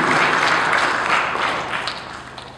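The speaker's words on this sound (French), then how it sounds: "On applaudit également pour lui, s'il vous plaît" An audience at an official software presentation applauds a newly introduced guest, a dense burst of clapping that is loudest at the start and gradually thins out and fades.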